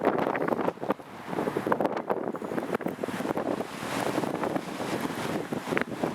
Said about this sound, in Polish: Nie ma tego wiatru, który tutaj słychać i czuć.